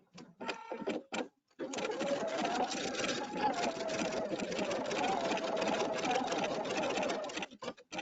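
A Pfaff sewing machine stitches in a few short bursts, then runs in one steady, close mechanical whir for about six seconds before stopping.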